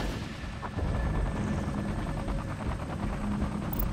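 Gunfire and battlefield noise from Tom Clancy's EndWar, a dense continuous roar of engines and shots on a map near Istra, Russia, loud and steady without speech.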